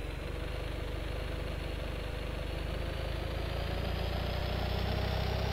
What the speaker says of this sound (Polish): Brzmi to trochę jak maluch, ale nie przyspiesza jak maluch.